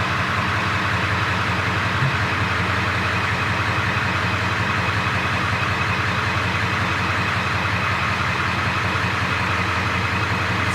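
Ford 7.3L Power Stroke truck engine running steadily, a loud, continuous diesel clatter and rumble, close up and unbroken with no talk.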